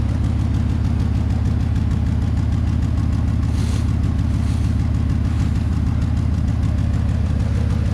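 An old Ford truck engine idles steadily and loudly up close, a continuous low rumble with an even pulsing throb that persists throughout, with no talking.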